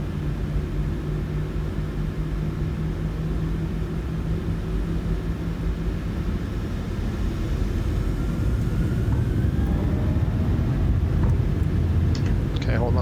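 From the cockpit, an airliner's engines rumble on the runway and swell louder toward takeoff thrust, a broad, steady roar building through the second half.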